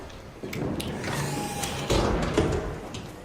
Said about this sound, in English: Guy is closing doors behind him.